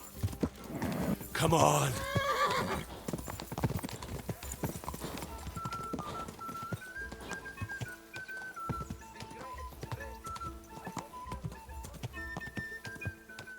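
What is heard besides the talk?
horse hooves clip-clopping in video game Kingdom Come: Deliverance II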